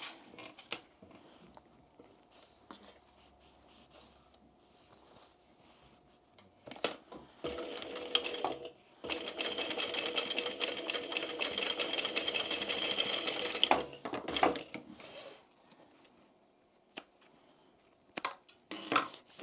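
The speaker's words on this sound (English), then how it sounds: "Now what we're going to do is sew across that line." A sewing machine stitches across the line of a fabric gift bag in a steady, rapid mechanical chatter lasting several seconds. Quieter handling clicks and light rustling come before and after it, all close and fairly soft.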